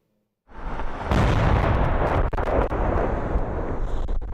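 An incoming artillery shell explodes in Bakhmut, Donetsk region: a loud blast erupts and rolls into a long, rumbling roar with crackling debris, starting abruptly after brief silence.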